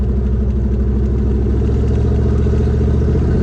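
A Corvette's small block Chevy V8 idles close by with a loud, steady, lumpy rumble and a rhythmic low pulse. It holds an even pace throughout with no talk.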